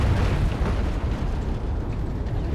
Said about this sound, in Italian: ha tirato l'attacco di artiglieria